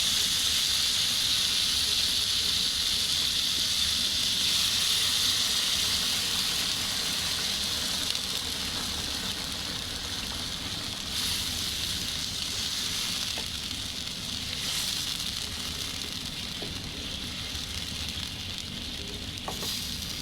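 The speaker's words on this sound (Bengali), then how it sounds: "এখন দিয়ে দেব গরম পানি।" Hot water poured into a pan of vegetables frying in cooked-down spices for a Bengali tengra fish and ridge gourd curry, producing a loud, steady sizzling hiss that fills the whole stretch and eases slightly toward the end.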